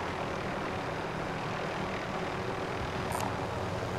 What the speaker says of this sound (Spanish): Aquí tengo un helicóptero